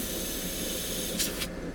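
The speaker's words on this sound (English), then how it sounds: "Though I do like this new airbrush." An airbrush sprays paint onto a skull, giving a continuous close hiss with two brief stronger bursts near the end, with no talk.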